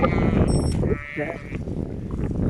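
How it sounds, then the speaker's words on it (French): Sheep in Denmark bleat a few times nearby, a couple of high wavering calls over rustling background noise. "C'est la cavalcade chez les moutons."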